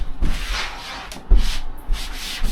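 Soft rubbing swipes as a rag-wrapped card edge slides across window privacy film on a smooth surface, several strokes in a row, close and fairly quiet.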